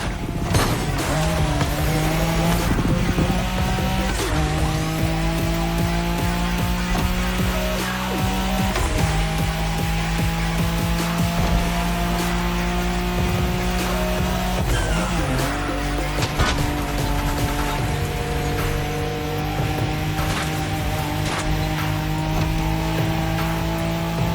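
A Nissan Skyline races in The Crew Motorfest, its engine roaring loud and continuous with repeated gear shifts, rising revs and squealing, skidding tires throughout.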